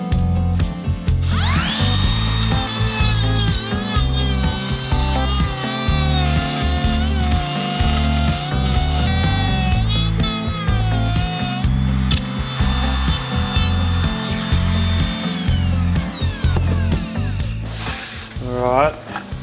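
A small trim router cuts a cable trench into wood during a wooden sailing boat restoration. It makes a steady, close, high whine with shifting pitch as it bites along the cut, then spins down near the end.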